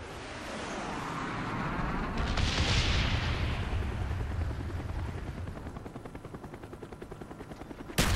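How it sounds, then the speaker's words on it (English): A napalm strike in the video game Call of Duty Black Ops roars through a free-for-all match, a loud, rushing fiery swell that fades into rhythmic rotor-like chopping before ending in a sharp burst. "Friendly napalm strike on the way."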